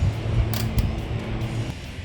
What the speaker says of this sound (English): the small ratchet with a 10mm to get into that space right there